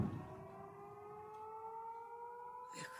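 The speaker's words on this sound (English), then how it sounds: "another little air attack. Little rinky-dink siren." An air raid siren wails during an air attack, a steady tonal drone heard from a distance and fairly faint, holding for the whole stretch without speech.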